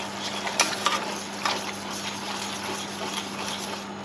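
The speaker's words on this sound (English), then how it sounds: "I'm just going to let that simmer probably for about 5 minutes" Thickish gravy made with stock simmers steadily in a pan, a soft continuous bubbling and sizzling hiss with a low steady hum underneath and no talking.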